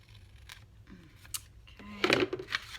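Scissors snip through paper junk-journal tags, a few faint cuts followed by a louder crunchy burst of snipping and paper rustle near the end, close by with no talk.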